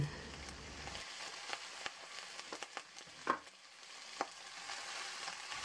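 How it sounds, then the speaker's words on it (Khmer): Quiet, steady sizzling of food frying in hot oil, with a few soft pops and crackles over a low hiss. "យើងដាក់ប្រេងហើយយើងយកសាច់មាន់យើងមកចៀន"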